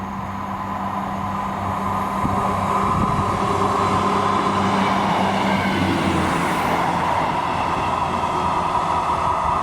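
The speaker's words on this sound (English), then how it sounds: "It's coming through now is a Class 158" A Class 158 diesel train passing through South Gyle station, a loud continuous rumble with a droning engine tone and wheel noise that holds steady throughout the pass.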